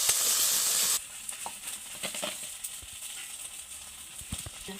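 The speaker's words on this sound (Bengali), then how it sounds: "দেখো যতক্ষণ না তেল থাকছে ততক্ষণ আমি কষে যাবো।" Spice paste being fried and stirred in oil for a vegetarian Bengali doi potol curry, with a loud steady sizzle for about a second, then quieter crackling and scraping stir sounds continuing close by, no talking.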